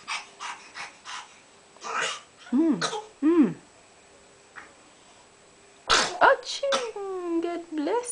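A small child sneezes and coughs a few times at home, short abrupt bursts among breaths and squeals, with a voice talking nearby.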